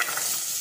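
Pumpkin in a pan over heat gives a steady, close sizzle with a faint scrape of stirring, brief and without talk.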